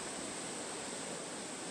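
Steady broadband roar of a large waterfall plunging over a wide rock ledge into a big clear pool, constant and even with no breaks or voices.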